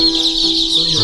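Day-old brown layer chicks fill the air with a dense, continuous chorus of high peeping, loud and close, with no pauses across the short stretch.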